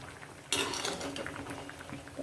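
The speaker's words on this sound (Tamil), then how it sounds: "இது நல்லா கொதிச்சுட்ருக்கு பாருங்கள்" Ridge gourd chutney mixture bubbling in a pot, a steady close simmer of soft popping and hissing that rises suddenly partway through and keeps going alone.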